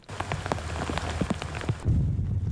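Heavy torrential rain with whipping wind pours down in a steady, dense roar, with scattered louder splashes and gusty low rumbles near the end.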